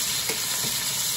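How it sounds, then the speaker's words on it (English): Chicken pieces fry in a pan for chicken marsala, giving a brief, steady crackling sizzle close up. "Frying up very nicely."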